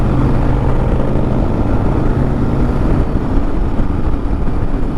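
Voge 800 DSX Rally adventure motorcycle cruising on a motorway, a steady, dense drone of engine and wind rushing past the rider, constant and loud throughout with no talking.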